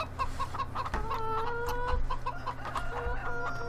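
Chickens on a farm in Farming Simulator 15 cluck and squawk near and clear, a busy run of overlapping calls over a low rumbling background.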